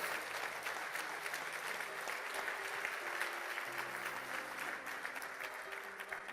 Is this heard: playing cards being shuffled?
no